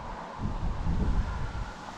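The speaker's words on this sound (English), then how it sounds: "we're a pretty windy Ladybower" Wind at Ladybower reservoir buffeting the microphone in low, rumbling gusts that swell and fade over a couple of seconds, with no voices.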